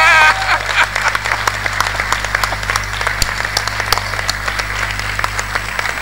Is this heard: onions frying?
no